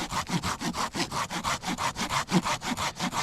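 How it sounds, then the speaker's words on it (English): A hand saw cuts through a small tree for firewood at a snowy camp, giving a fast, even rhythm of about sixteen rasping strokes, close and clear with no talk. "Once you've sawn off those first 2 or 3 pieces"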